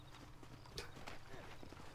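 A horse's hooves clip-clop in a quick, fairly faint rhythm in the Red Dead Redemption video game, set under low background ambience.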